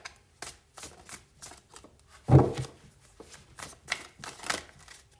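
A Wild Offerings Oracle deck gets shuffled by hand in a series of quick, papery riffling bursts, close and fairly loud, with one fuller flurry midway and brief pauses between.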